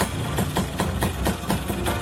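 An original Yamaha RS100 two-stroke motorcycle engine idles close by, its note ringing and clear, with a quick, regular pulsing beat running steadily through the whole stretch and no talking over it.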